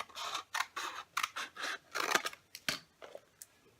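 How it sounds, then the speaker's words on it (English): Scissors snip at the edge of a paper pouch in a run of close, crisp cuts with short pauses between them. "I might even trim a little bit off the edge of this one, just 1/8 of an inch"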